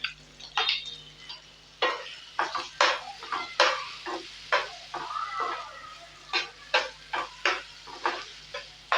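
Onion, tomato and capsicum sizzle softly in a pan while a spoon stirs and scrapes them in a steady run of close metallic clinks.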